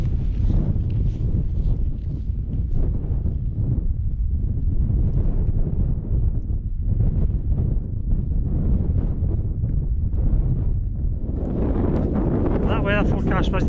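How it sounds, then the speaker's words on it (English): Strong, gusting wind buffets the microphone on the cold, cloud-covered 821-metre summit of Benvane in the rain zone, a loud continuous roar throughout with surging low rumble and brief breathy sounds from the person filming. "That's the high winds coming up now in the rain zone."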